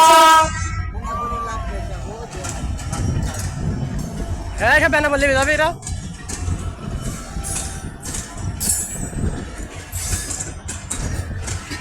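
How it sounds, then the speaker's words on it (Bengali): An Indian train passing in the open, a low rolling rumble of wagons carrying through, with a rising horn toot in the middle and people talking nearby. "এই মাত্র ইন্ডিয়ান ট্রেন বেরোচ্ছে ইন্ডিয়ায়।"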